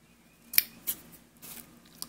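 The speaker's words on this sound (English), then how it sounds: "I'm going to cut these little pieces here a little bit." Scissors make a few crisp snips while trimming small pieces for a shaker card, with quiet gaps between the cuts.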